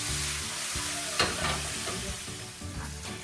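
Meat for shawarma sizzling and frying in a pan while being pushed around, a loud steady sizzle with scraping stir strokes breaking through at intervals.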